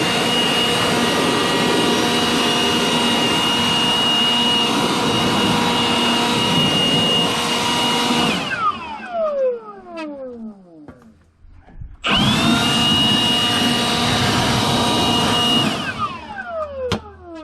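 An electric blower runs with a loud, steady high-pitched whine, shuts off and spins down with a falling pitch, then starts again at full roar and winds down once more, with no talk.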